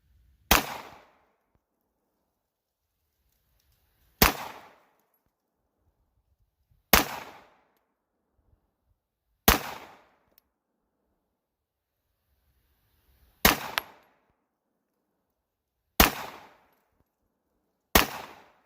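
A Sig Sauer P238 .380 ACP pistol fired at a defensive range of about 7 or 8 yards, seven sharp, loud single shots spaced a few seconds apart, each cracking then fading quickly in a quiet outdoor setting.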